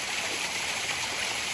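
A waterfall with weak flow during an El Niño dry spell makes a steady, even hiss of running water, constant and moderately distant, with no voices.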